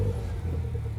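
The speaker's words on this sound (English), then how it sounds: "we'll just start the car" A MINI Cooper engine running just after starting, with a low, steady idle rumble heard close up, brief and without talk.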